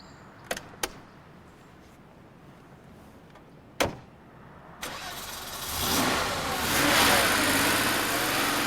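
A Porsche 911 Turbo with a 3.6-litre turbocharged engine gives a few clicks and a sharp thump, then cranks and fires up, settling into a steady, loud, close running note that swells slightly.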